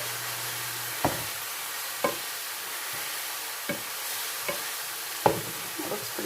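Meat for shepherd's pie fries in a pan with a steady soft sizzle, punctuated roughly every second by sharp scraping knocks of a utensil stirring against the pan.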